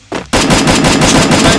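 Loud video game gunfire from a headshot, a sharp first shot followed by a dense, rapid automatic burst that fills the whole moment, close and harsh.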